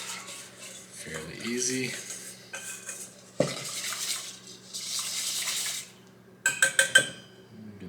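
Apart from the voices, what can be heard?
whisk stirring a mixture in a container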